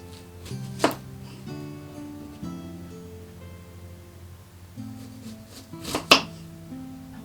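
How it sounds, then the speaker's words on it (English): A knife slicing an onion into wedges on a cutting board, a few sharp separate chops spaced apart over soft background music, with no talking. "As for the onion, I tend to prefer to cut that into wedges because the layers do fall apart."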